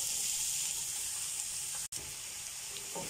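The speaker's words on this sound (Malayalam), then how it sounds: "അതിലോട്ടേക്ക് എണ്ണ ചൂടായതിന് ശേഷം ഉള്ളി ഇട്ട് കൊടുക്കാം" Onions frying in hot oil in a pan for a beef masala snack, a steady close sizzle with a brief cut in the middle and a light stir near the end.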